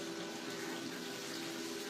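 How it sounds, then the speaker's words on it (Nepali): Water pouring steadily into a pot of boiling fish gravy, a continuous close rushing splash with a hollow filling tone, no talk. "पानी हाल्ने"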